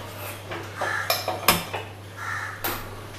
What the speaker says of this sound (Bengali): আচ্ছা দেখো আমি এখানে কড়াই বসিয়ে দিচ্ছি।